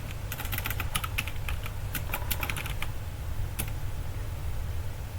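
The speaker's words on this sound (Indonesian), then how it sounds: "pergi ke terminal untuk cek IP nya dengan mengetik ipconfig" Typing a command on a computer keyboard: a quick burst of close key clicks in an uneven rhythm, then a pause and a single later keystroke, heard over a steady low hum.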